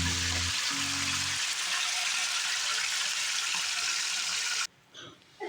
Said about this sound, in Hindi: इसमें चिकन डाल के ना इसको कुछ देर फ्राई करना है